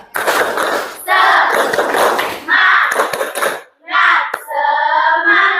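Schoolchildren in an Indonesian classroom perform a rhythmic spirit clap, loud bursts of patterned clapping mixed with children's chanting voices, with short pauses between sections.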